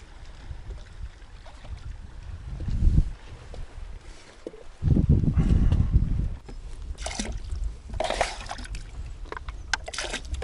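Gusts of wind buffet loudly in rumbling bursts over the sound of lapping, trickling water close by, heard from a small boat.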